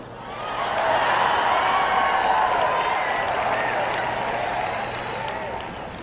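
Applause from an audience at an evening event, a broad sustained wash of clapping that swells in and holds steady for several seconds, dense and fairly loud, tapering slightly toward the end.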